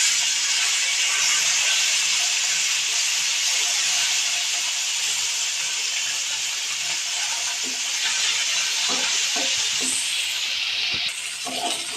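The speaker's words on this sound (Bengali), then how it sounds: "এক সাইড ভাজা হয়ে গেছে, এখন উল্টে নেব।" Fish sizzles in hot oil in a home kitchen pan, a continuous bright hiss that stays fairly loud, with a few clattering knocks near the end as the pieces are turned over.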